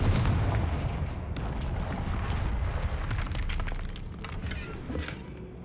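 Confringo spell blasts in the Hogwarts Legacy video game, a loud booming explosion at the start with crackling debris and several sharp impacts trailing off.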